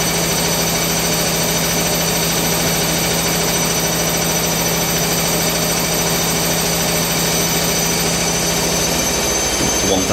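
A Candy Smart CBD485D1E/1-80 integrated washer dryer on its spin cycle at 1000 RPM, a loud, constant whirring drone with a steady hum that runs unbroken the whole time.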